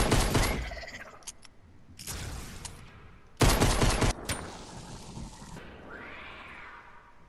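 Grenade blasts and gunfire in a zombie video game come as bursts of dense, loud noise separated by brief pauses, with rattling fire and a final rising tonal sweep from the game.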